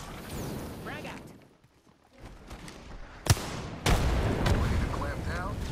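A frag grenade detonates in a battle-royale shooter, one sharp loud blast followed by a sustained rumbling roar, with gunfire and voices around it.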